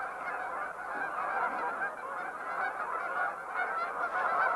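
A flock of wild geese at a marsh honks continuously, many overlapping calls forming a steady, loud clamor with no talking.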